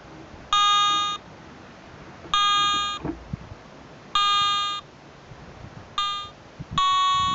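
A Garrett ATX metal detector sounds a series of five short electronic beep tones during its frequency scan, spaced about every second and a half, over faint background hiss.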